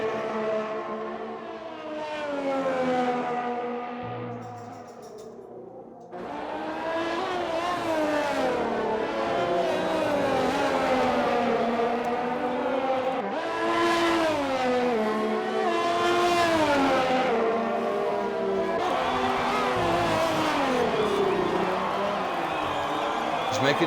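A Haas Formula 1 car on a hot lap at the Dutch Grand Prix in a racing game screams loudly with high engine revs rising and falling through gearshifts, under steady commentary talk.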